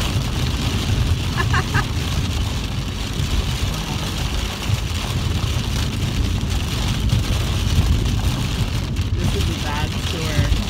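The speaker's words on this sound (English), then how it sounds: "You guys just listen to the rain." Steady heavy rain pours down on a moving car, a continuous hiss and patter layered over low road rumble, unbroken for the whole stretch.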